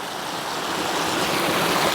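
Water cascades down a large constructed drainage waterfall of rock, a loud, dense, continuous rushing roar close by with no break.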